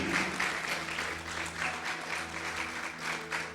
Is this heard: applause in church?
yes